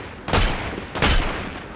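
Two loud, close bursts of gunfire ring out in the Fortnite video game, each a sharp blast followed by a short fading tail.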